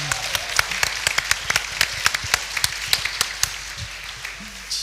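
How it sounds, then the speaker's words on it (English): Clapping at a gathering, sparse and uneven, with individual sharp claps standing out rather than a full ovation, fairly close and moderately loud, with a brief voice near the end. "Round of applause for that courage, I think."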